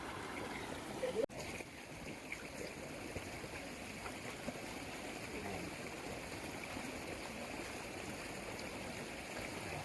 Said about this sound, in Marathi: आता जोरात आलाय बघा पाणी